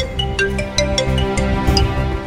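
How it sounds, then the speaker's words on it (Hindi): A mobile phone rings with an incoming call, playing a loud, close melodic ringtone with a repeating run of bright notes over a steady beat. "शगुन जी का फोन आ रहा है।"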